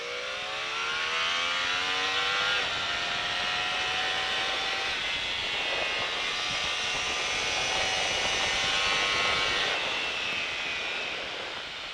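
A vehicle accelerates hard out of a corner on the Mettet circuit, its engine note climbing steadily and then holding a loud, sustained drone close by for the whole stretch, with no talking over it.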